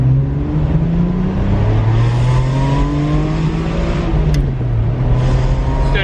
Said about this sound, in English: I don't know if there is a better sounding engine than a Ferrari engine from the 90s